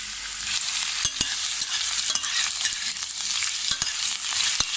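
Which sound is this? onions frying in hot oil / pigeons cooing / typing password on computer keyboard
onions frying in hot oil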